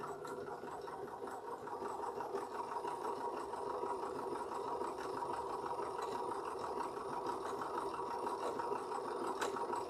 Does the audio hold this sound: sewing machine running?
yes